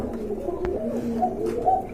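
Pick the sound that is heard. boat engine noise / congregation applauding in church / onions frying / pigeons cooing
pigeons cooing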